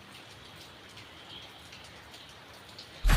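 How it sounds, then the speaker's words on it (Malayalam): Rain falls steadily outdoors, a soft, even patter and hiss of drops heard close but faint, with no voices, ending in a sudden loud thump as the recording cuts off. "മഴയും കാര്യങ്ങളാണ്"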